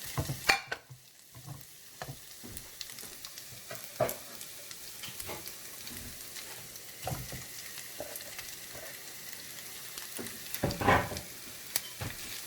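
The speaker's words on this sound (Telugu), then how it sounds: "దుంపలు వేసేసి వేయించేసుకుంటాం" Potatoes fry in oil for a masala dosa curry, giving a soft continuous sizzle with repeated light spatula scrapes and clinks, plus a brief louder burst near the end.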